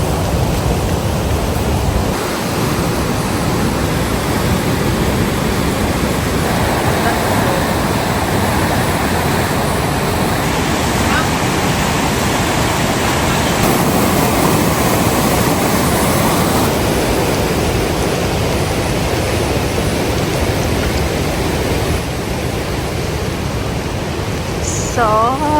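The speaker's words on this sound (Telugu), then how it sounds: "మొత్తం వర్షం వర్షం వర్షం." Heavy rain on a road near Niagara Falls, a loud, dense, continuous roar of falling water filling the whole stretch without pause.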